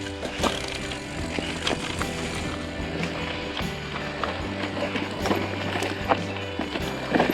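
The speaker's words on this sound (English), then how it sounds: "when it comes to the descending and you're just coasting, thing is so rattly, mate" A 2021 Focus Jam2 6.8 Nine e-bike coasting downhill on a trail, its frame and parts rattling with a steady busy clatter and repeated mechanical clicks, close and continuous throughout.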